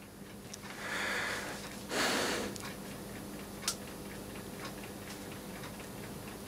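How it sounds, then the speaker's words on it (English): A timer switch ticks steadily in the background during a test of Siemens Landis & Gyr MM2000 watthour meters: faint, evenly spaced clicks over a low room hum, with a brief louder rustle near the start. "Hear that timer switch ticking in the background."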